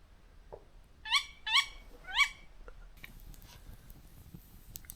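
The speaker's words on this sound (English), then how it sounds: "Pretty sure the owl's in that tree somewhere." Near a wild campsite at night, an owl in a nearby tree gives three quick, sharp calls in a tight burst, followed by a faint crackle and a low background hiss.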